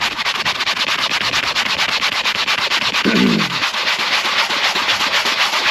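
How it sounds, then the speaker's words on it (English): Brush scrubbing of car upholstery with Turtle Wax upholstery cleaner, a steady close, loud rhythmic scratching that runs throughout with a brief lower thud near the middle. "And let's go ahead and scrub."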